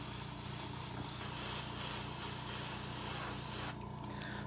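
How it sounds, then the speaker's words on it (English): A tattoo airbrush sprays air in a steady, loud continuous hiss that holds for several seconds, then drops abruptly to a quieter, thinner hiss near the end. "I'm always spraying air."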